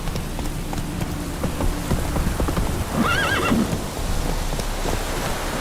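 Roach, the horse in The Witcher 3, clip-clops at a steady gallop while a rising whinny cuts through around the midpoint, set against a soft patter of rain.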